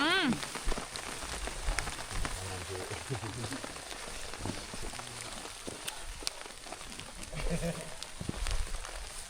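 Steady rain falls throughout a mountain hike on Gunung Argopuro, a continuous dense patter close by with occasional louder drops and faint movement sounds.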